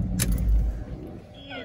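The rebuilt engine of a Cadillac Escalade runs at a steady idle, a close low rumble with a brief clatter at the start.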